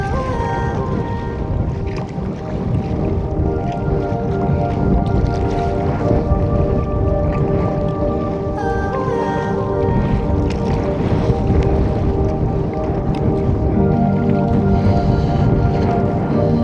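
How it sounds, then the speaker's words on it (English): A sea kayak pushes through waves on Ontario's Georgian Bay: a constant wash of water and wind with sloshing splashes against the hull, loud and close, and no talking. "paddling in waves like this is actually, this is a lot nicer than the paddling I did in Lake Superior"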